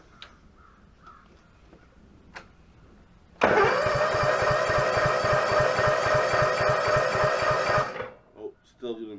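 A Toro zero-turn mower engine, just serviced with a cleaned air filter and lubricated throttle, cranks and catches, then runs loud and steady for several seconds before cutting out, with faint voices and a crow cawing in the quiet before it.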